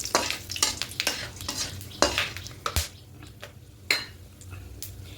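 Bay leaves and whole garam masala are dropped into hot oil. Close stirring, clatter and scraping sit over a soft sizzle, with an irregular run of knocks against the pot.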